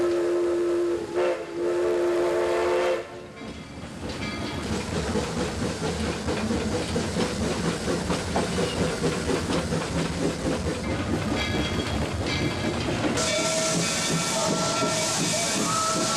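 A steam train on the Rocky Mountain line at an amusement park's Old West ghost town gives a whistle blast at the start and again near the end, with a steady roar of hissing steam and rolling cars in between.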